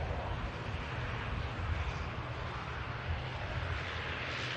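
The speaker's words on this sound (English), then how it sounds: "The Ryanair touching down on 2-3 right." A Ryanair airliner touches down on runway 23R at Manchester Airport, a continuous broad jet roar with rumbling low end, steady and moderately distant, with no voices over it.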